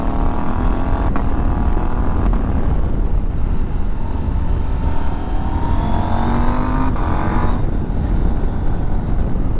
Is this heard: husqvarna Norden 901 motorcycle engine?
yes